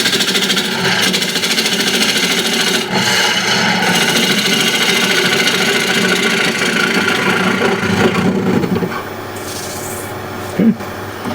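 A ball gouge cuts an Osage orange wood plate spinning on a lathe, a loud continuous scraping rasp that runs steadily, then drops away near the end with a brief knock.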